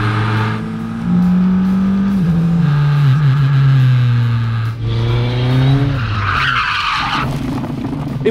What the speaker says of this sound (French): je pars dans le tête à queue le plus rapide de ma vie